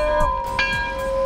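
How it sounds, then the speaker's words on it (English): A single bell rings with a sustained, steady tone that carries through the whole moment, with a brief brighter strike partway in, heard in the setting of a dealer presentation of a 2009 Mercedes-Benz SL AMG roadster. "Somebody ring the bell."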